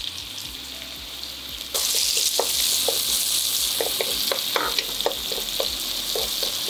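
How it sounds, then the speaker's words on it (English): Onions with cumin seeds hit hot oil in a thick-bottomed pan, and a loud sizzle suddenly jumps up and continues, with close, irregular stirring clatters over it and no one speaking. "saute it for a minute"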